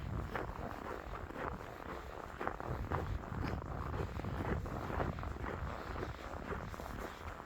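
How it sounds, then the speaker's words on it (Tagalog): Steady winter wind blowing outdoors in Norway, a continuous rushing breeze with gusty buffeting against the microphone and no voices. "Sarap ng simoy ng hangin."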